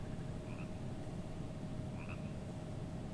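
Stone frog chest in the video game Mortal Shell croaking twice, short faint croaks about a second and a half apart over a steady low game ambience hum.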